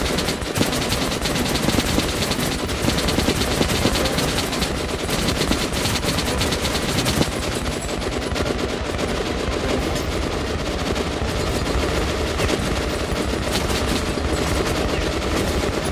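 Turret machine gun in Metro: Last Light firing in a loud, dense, unbroken burst that roars on for about sixteen seconds, with no pauses between rounds.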